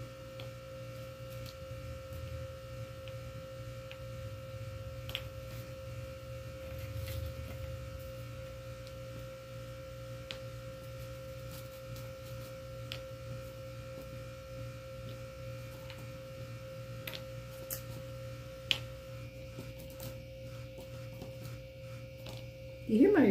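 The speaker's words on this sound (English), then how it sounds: "You hear my refrigerator?" A steady low electrical hum runs throughout with faint scattered ticks and clicks. A louder thump comes at the very end.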